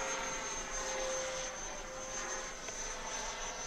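An FMS 80mm F-86 Sabre RC model jet flies overhead, a steady distant whine with a thin high tone, faint and even throughout with no talk.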